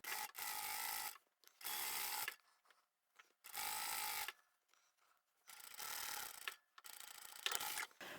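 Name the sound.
sewing machine stitching tote bag lining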